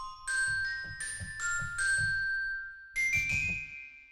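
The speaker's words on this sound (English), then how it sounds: "Orchestral chimes." Orchestral chimes from a sampled orchestra library ring out in a series of bright, clear metallic strikes with long sustaining tones, played alone and close, with a short pause before a final pair of hits.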